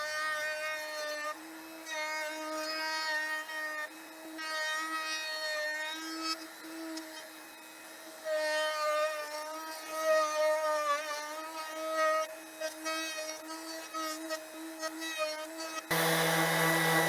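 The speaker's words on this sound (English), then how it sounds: "So to the router table we go." A router table cutting wood whines steadily at high pitch with a sustained tonal buzz that dips and rises slightly, ending with a brief louder burst.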